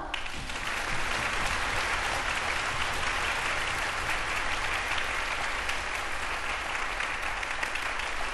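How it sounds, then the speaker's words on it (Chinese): Concert audience warmly applauds the conductor, Professor Li Zhensheng, at a Taichung Union Symphony Orchestra performance of Bizet's Carmen Suite, a thick, steady wave of clapping filling the hall from start to finish. "让我们再次热烈掌声欢迎指挥李振声教授"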